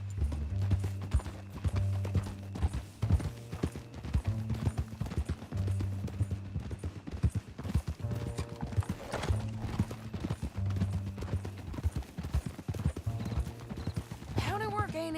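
Horse hooves clip-clop steadily in Red Dead Redemption 2 as a horse pulls a wagon, a close rhythmic trot with faint creaking mechanisms over low music.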